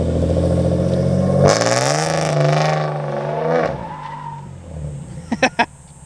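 A Nissan G35 drift car with a slipping clutch revs hard, its engine note climbing and holding before falling away, followed by a few short sharp tire chirps, loud and close.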